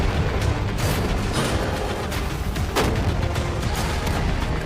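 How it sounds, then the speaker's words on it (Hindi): Tank cannon fire aimed at a money-filled container, a dense run of heavy booming shots blending into a continuous loud rumble with one sharper crack standing out. "5 टैंक्स पैसों पर निशाना लगाकर 20 राउंड फायर करने वाले हैं।"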